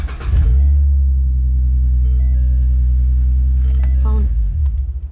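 A Ford Mustang convertible engine fires up from its push start button, a sharp crank at the start settling into a loud, steady low idle rumble that holds close by and then cuts off near the end.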